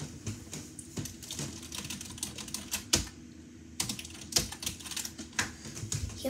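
Close, crisp keystrokes on a computer keyboard come in uneven bursts with a few heavier clacks, part of a classroom role-play, with no talking over them.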